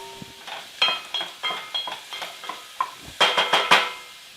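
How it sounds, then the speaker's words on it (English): Spoon stirring vegetables in a pot of palak paneer: a run of close, clinking scrapes and knocks in an uneven rhythm, with a faint sizzle underneath and a quicker burst of stirring near the end. "Give them a little bit of a stir."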